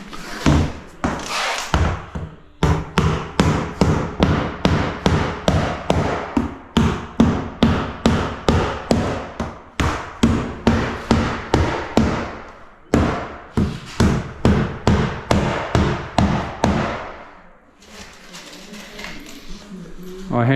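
Nails are driven into cement sheet laid over tongue-and-groove flooring with a quick, steady run of sharp hammer blows, near and loud, that pause briefly now and then, with some talking mixed in.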